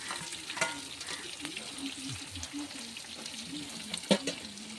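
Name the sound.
chopped onions and green chillies sautéing in a pan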